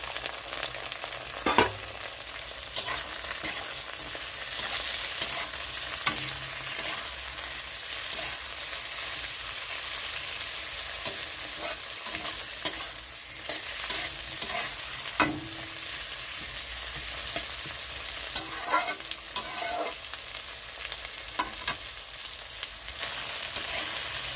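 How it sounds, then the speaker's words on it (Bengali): Spices fry with green chilli, tomato, cashew and melon seeds in a pan for a Bengali tilapia curry, a continuous close sizzle broken by occasional stirring scrapes and clinks. "তো এখানে মশলাগুলো ভাজা হয়ে গেছে"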